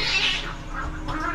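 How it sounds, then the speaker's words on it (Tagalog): Cats fight at night, a loud drawn-out yowl rising and fading, then another whining caterwaul near the end, heard fairly close with no talk over it. "Ang ingay ng pusa na daaway"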